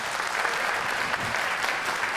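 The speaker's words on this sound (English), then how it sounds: "big round of applause for our LRMTs" Applause from an audience honoring licensed Reiki Master teachers at an opening ceremony, a steady, dense wash of clapping that fills the whole clip at an even level.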